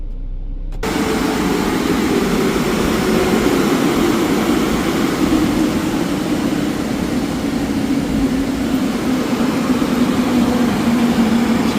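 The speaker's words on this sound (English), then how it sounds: "Just hear the blowers powering down" Mark VII dryer blowers at a D&S i5000 touchfree car wash in Escondido, California kick in after a moment of quiet and roar as a loud, steady, windy whoosh with a low drone that eases slightly over the stretch.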